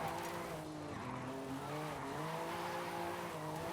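A car drifts in a long drift zone in the video game Forza Horizon 5, a steady engine hum with wavering tire squeal held continuously at low volume.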